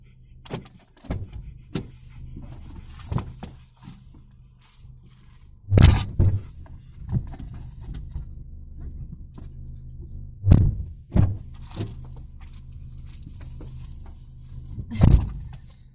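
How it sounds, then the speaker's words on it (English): Car doors thunk shut and a power window hums on a dirt road in the Idaho countryside, then the engine starts; several loud, sharp door slams stand out against quiet handling noise. "now I'm back in my car. The dogs are out. And I just start the car."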